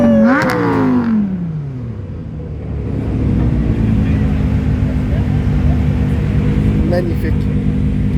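Ferrari 912 competition sports car in Montreal over the F1 weekend, roaring past close by with a sharp rev whose pitch drops as it goes, then a steady engine rumble lingering in the street.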